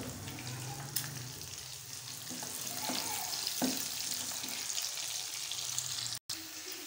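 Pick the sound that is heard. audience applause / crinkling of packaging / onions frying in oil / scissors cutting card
onions frying in oil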